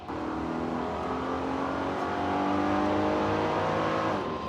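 A 1998 Mitsubishi Pajero Evolution's engine drones loud and close while driving, its pitch climbing steadily as the SUV accelerates, with no talk over it.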